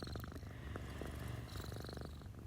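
A cat purring steadily and close while kneading, a soft continuous rumble with no talk over it.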